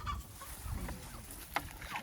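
Rhode Island Red chickens cluck softly in short, scattered calls close by, over a low background rumble.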